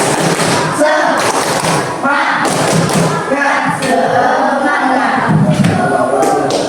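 A school class performs a rhythmic clapping cheer, counted sets of sharp, loud claps in quick patterns, with voices chanting along throughout.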